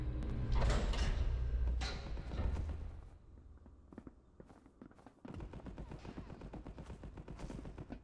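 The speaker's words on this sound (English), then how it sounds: "Gunfire I, already. I heard bodies dropping." Loud bursts of gunfire in the space combat game Marauders up front, then a quieter stretch with thuds and clicks, followed by steady rapid footsteps and clatter.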